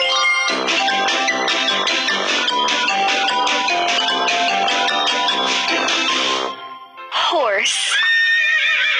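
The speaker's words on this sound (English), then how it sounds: "Horse. H-O-R-S-E. Horse." A horse whinnies in a long, loud, harmonically rich neigh that trembles for several seconds, followed after a brief pause by a shorter rising squeal.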